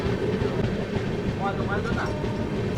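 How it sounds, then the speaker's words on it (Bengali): The 12023 Patna Janshatabdi Express pulls out of Chittaranjan railway station, heard from on board as a steady low rolling rumble, with faint voices briefly audible in the carriage. "আর আমার ট্রেন বেরিয়ে যাচ্ছে চিত্তরঞ্জন রেলওয়ে স্টেশন"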